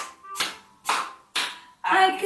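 A child's song lesson with four separate bursts of hand clapping, roughly half a second apart, each one loud and broadband. A voice sings or talks faintly around the claps.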